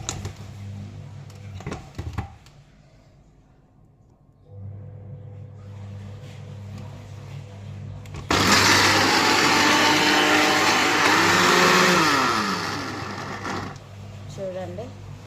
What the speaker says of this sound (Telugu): మిక్సీ చేసేసుకోవాలా.